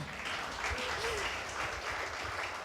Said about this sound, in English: And I think we can applaud that.